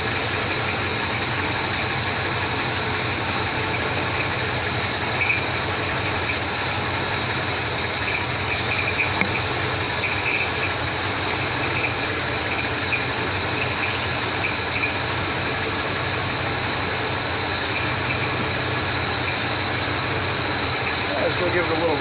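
Steady idling car engine with a fuel tank switching valve fitted, a constant mechanical drone and hum running unchanged throughout, with no clear rev.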